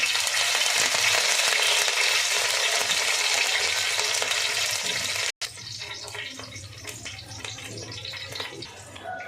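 Pepper and curry leaves fry in a pan for Tamil Nadu style pepper chicken, giving a loud, steady sizzle that cuts out briefly, then returns lower and crackling, with no talking.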